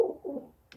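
Captive pigeons kept in a coop give a couple of low, soft coos close by, followed by a brief rustle or flutter near the end.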